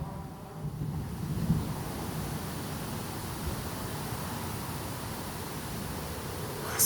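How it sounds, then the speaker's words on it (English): Steady wind roars through trees during a big summer thunderstorm in Coram, New York, a broad, constant rushing wash that stays loud and unbroken throughout, with a brief low bump near the start. "look at the trees. It's wind."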